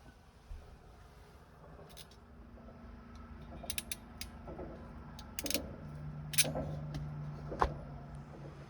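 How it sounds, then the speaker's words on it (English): A hydraulic lug press works aboard a 1984 Hallberg-Rassy 352 sailboat, giving quiet, low creaking and strained mechanical groans punctuated by a few sharp clicks and snaps, all fairly faint. "Hydraulic lug press."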